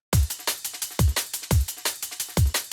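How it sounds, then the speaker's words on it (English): A deep, punchy kick drum in a liquid drum and bass track lands in a steady pattern among layered breakbeat hits and cymbals. Each thump is loud and booming, with no talking. "Then we have some kick."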